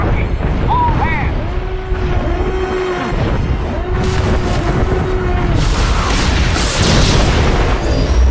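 Incoming fire in the Star Wars: The Old Republic game, heavy booming explosions and mechanical rumbles under a blaring alarm and voices, building to a louder barrage near the end.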